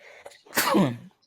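A single sneeze bursts out at close range, a brief intake followed by a loud explosive burst that tails off quickly, with no talk over it.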